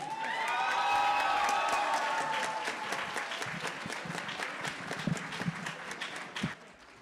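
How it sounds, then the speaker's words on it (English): An auditorium audience at a university student service and leadership awards ceremony gives a final round of applause for the winners, a loud dense wave of clapping with some cheering that gradually thins into scattered claps before fading out. "Let's give a final round of applause to all our winners."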